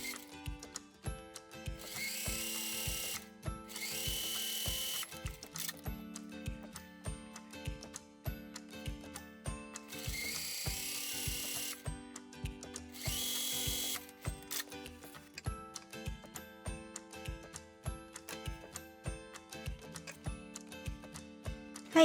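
A sewing machine stitches the shoulder seam of a dress with a 1 cm seam allowance, producing steady rapid mechanical ticking in several bursts separated by short pauses, close and fairly quiet.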